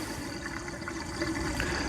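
Water runs steadily into a Nobo 20.4 camper's fresh water tank during de-winterization, a continuous hissing, gurgling fill that stays even and fairly close throughout.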